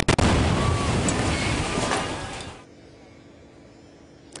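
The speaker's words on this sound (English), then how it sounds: "A huge explosion just before 8 last night." About ten pounds of seized illegal homemade fireworks loaded in a truck go off in a failed controlled detonation, a loud broadband blast that rumbles and fades over a couple of seconds before near quiet.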